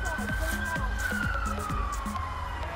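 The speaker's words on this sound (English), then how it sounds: "That's what all these sirens are about." Emergency vehicle sirens responding to a big crash in the Don Valley wail in the distance, one tone sweeping slowly downward while another repeats in short pulses, over a steady low rumble of wind or traffic.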